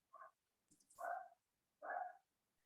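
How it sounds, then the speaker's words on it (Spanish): A street dog heard from a distance gives three faint barks at uneven intervals, short and somewhat muffled, with quiet gaps between them and no talking. "Estoy escuchando a un perro de la calle"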